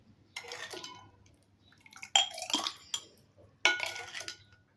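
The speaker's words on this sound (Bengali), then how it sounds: "আমি এখন গ্যালাস উঠিয়ে নেব।" A glass of homemade sherbet clinks and scrapes against a hard kitchen surface in three short bursts, close and fairly loud, with quiet pauses between them.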